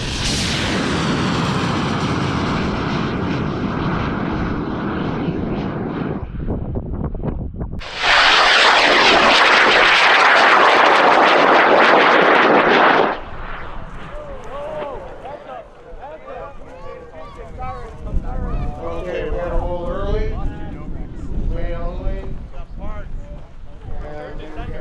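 A giant TWA Moonliner model rocket lifts off at a large high-power rocketry launch event, a sudden loud broadband roar that holds for about five seconds after a countdown, then fades into distant rumble with crowd voices and chatter.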